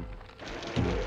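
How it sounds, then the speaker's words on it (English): Cartoon rain falls as a steady broadband patter, with a louder low rumble swelling near the end of the brief moment, no voices present. "No, no, that's rain."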